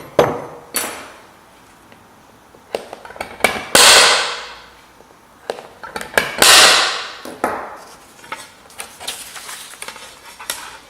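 Center punch struck with a hammer to mark metal for a vintage car model project, a few sharp ringing metallic blows spaced apart, close and loud, with lighter taps and handling clatter between.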